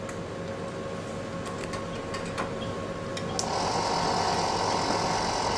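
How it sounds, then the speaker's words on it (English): A laboratory vortex mixer whirring as it mixes enzyme and substrate solution, a steady mechanical hum that grows louder and brighter partway through, with a few small clicks beforehand. "Mixing the contents thoroughly on a vortex mixer and pressing the stopwatch immediately."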